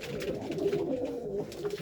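A pigeon coos overhead, a soft, low, rolling call repeated steadily and close by outdoors, heard alone with no talk.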